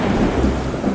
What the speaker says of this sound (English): It starts raining heavily outside.